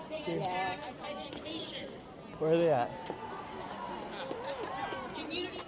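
A crowd of protesters chattering and milling about, with overlapping voices and footsteps close by while the person filming speaks and pushes through.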